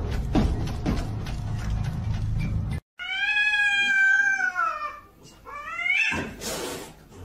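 A cat gives two long, loud, drawn-out meows close up, separated by a brief pause, with rustling noise before and after.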